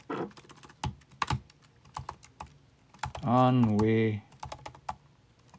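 Computer keyboard keys tapped in short irregular bursts at close range, someone speaking over and between the clicks, with a brief sustained voiced sound partway through.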